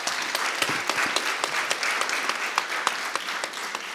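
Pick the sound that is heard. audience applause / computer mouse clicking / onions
audience applause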